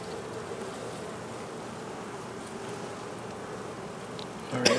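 Honey bees buzz in a dense, steady swarm around opened hives at an apiary during a hive check, with a brief louder rustle near the end.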